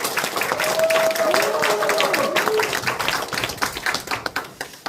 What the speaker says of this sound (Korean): 여러분들 큰 박수로 모시겠습니다